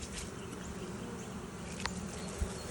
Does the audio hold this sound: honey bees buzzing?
yes